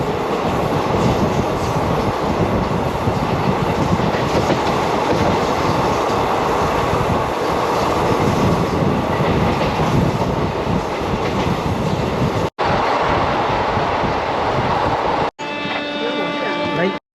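The Uttaranchal Sampark Kranti Express rolls non-stop through Hapur, a loud continuous rumble of wheels and carriages with rhythmic clatter, heard close from on board, ending with a couple of abrupt cuts.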